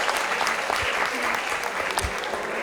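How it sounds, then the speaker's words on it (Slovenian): Students in a secondary school hall give a loud, close round of applause for a volunteer at a book event with a writer, with a few heavier thumps and some voices under the clapping. "dajte mu en velik aplavz"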